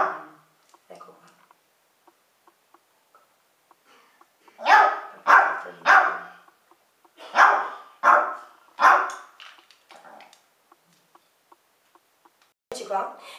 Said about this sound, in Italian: il cane che abbaiava perché voleva stare in braccio